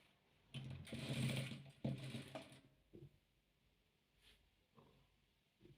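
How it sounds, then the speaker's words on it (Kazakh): A sewing machine stitches the side of a patchwork quilt in a couple of short running bursts, followed by quieter mechanical clicks and taps, close and fairly soft. "Төртінші қабырғасын тігіп жатырмыз."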